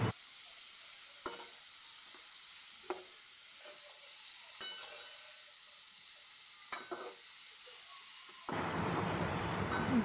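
Chopped spiny gourd (kakrol) fries in a pan with a soft, steady sizzle, broken by several sharp scrapes and knocks of a spoon stirring, then a louder rush of sizzling near the end.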